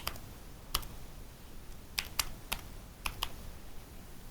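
Someone types a passport number on a computer keyboard during an online visa application: a handful of sharp, separate key clicks come in small clusters over a quiet room hum, with no talking.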